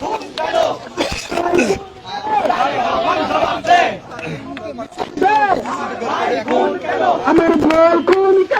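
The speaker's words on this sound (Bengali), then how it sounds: "আমার ভাই খুন কেন, তারেক রহমান জবাব দে, স্লোগানে উত্তাল হয়ে পড়েছে" A Jubo Dal protest crowd at the VC Chattar of Dhaka University shouts slogans about a killing, many voices chanting loudly together in rhythmic bursts, dense and close throughout.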